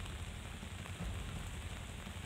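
Heavy rain falls during days of continuous downpour in Uttarakhand near Rishikesh: a steady, fairly faint hiss of rain on surfaces with no voices.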